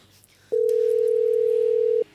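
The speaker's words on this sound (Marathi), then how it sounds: "डॅडीसनीच फोन लावतो मी" A telephone dial tone rings out during a call to a father in a Marathi comedy sketch, one steady continuous tone of about a second and a half, loud and clean, with no talking over it.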